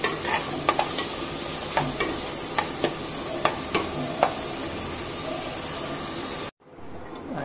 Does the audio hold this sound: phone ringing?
no